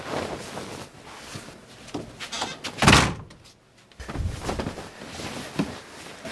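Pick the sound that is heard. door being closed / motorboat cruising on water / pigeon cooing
door being closed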